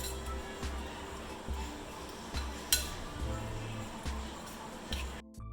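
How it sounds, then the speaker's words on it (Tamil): Close, soft clinks and scraping of a spoon stirring thick spice batter into cauliflower in a bowl, in irregular strokes with brief pauses. "மசாலா நல்லா காலிஃப்ளவரில் கோட் ஆகிற மாதிரி நல்லா அதை மிக்ஸ் பண்ணி விட்டுருங்க."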